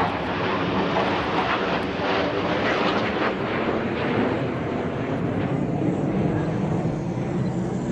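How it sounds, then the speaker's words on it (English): A Chinese J-10CY fighter jet flies at the LIMA Langkawi airshow, its engine a continuous loud, rushing roar that holds steady across the whole stretch. "They've recently upgraded, however, to the J-10CY, a sub-variant that has been specifically designed for aerobatic team duties."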